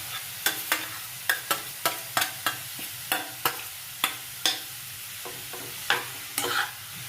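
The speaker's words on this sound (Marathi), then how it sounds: "आता हे 2 मिनिटं आपल्याला फक्त परतून घ्यायचं" Grated carrots sautéed in a pan, a soft frying hiss punctuated by regular sharp scraping strokes of a spatula, roughly two per second, close and steady with no speech.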